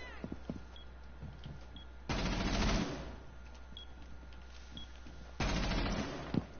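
Video game gunfire: two loud bursts of sustained rapid automatic fire, each lasting about a second, separated by quieter stretches with scattered faint shots and small clicks.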